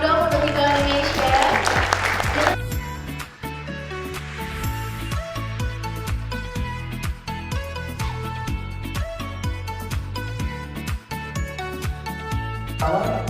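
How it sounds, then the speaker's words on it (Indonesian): An audience at the Anifestkom 2019 event bursts into brief, loud applause lasting a couple of seconds, then music with steady tones takes over and runs to the end. "boleh berikan tepuk tangan dong untuk Kiko Indonesia"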